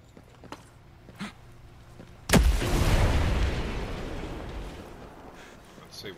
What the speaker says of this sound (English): I'm going to try and throw a grenade at this.